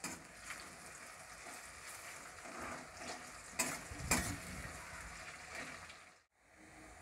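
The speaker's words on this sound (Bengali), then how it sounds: "পেঁয়াজটা ভাজা হয়ে গেছে" Sliced onions fry with a little sugar in a pan for a Bengali rohu fish and potato curry, giving a steady close sizzle with stirring scrapes and a brief drop to near silence near the end.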